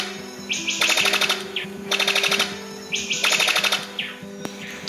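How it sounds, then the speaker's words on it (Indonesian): A brown sicklebill bird repeats a loud, rapid series of sharp metallic chirps in bursts, each burst a quick rattling trill, against a low droning background. "Fakta unik burung paruh sabit coklat."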